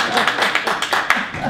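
An audience at a meeting claps in a brisk burst of overlapping hand claps, fairly close and loud, with voices mixed in.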